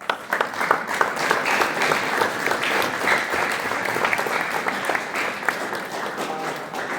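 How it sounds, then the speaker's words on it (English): At a boys basketball awards banquet, the players give their parents a round of applause, a dense, continuous clapping from a room full of people that stays loud and even throughout. "we want you to give your parents a round of applause"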